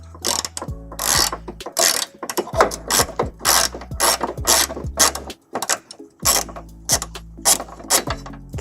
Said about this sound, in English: the last thing that we're going to need to take off to get that tow hook removed is a 14mm bolt going into the side